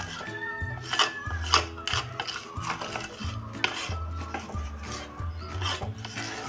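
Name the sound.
mixing laddu mixture with saffron yellow color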